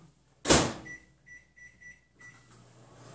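A microwave oven cooking chicken pot pie dough starts with a sharp clunk of its door, then beeps in a short, evenly spaced series of tones as it is set and begins to hum quietly.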